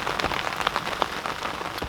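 Rain pours down steadily beside a carp angler's swim, a thick, even hiss of drops with scattered closer taps and splats, and nobody talks.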